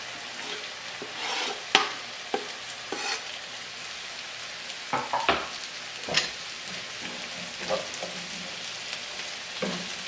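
A spoon stirs parsley and butter through roast beef in a hot pan, a constant low sizzle punctuated by irregular scraping and clinking strokes, close by with no speech.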